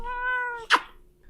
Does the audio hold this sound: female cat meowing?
yes